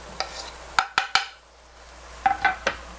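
Chopped garlic dropped into a hot pan for a one-pan pork dish and stirred, with sharp spoon-on-pan clinks in two clusters over a low, soft sizzle.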